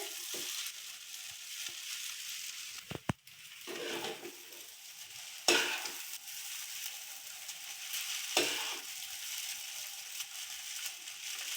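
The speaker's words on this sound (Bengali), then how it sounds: "আমার চাউ চাউটা দেখো ভাজা হচ্ছে।" Chow mein noodles fry in a pan while being stirred, a soft continuous sizzle broken by a few sharp metallic clanks and scrapes of the utensil against the pan.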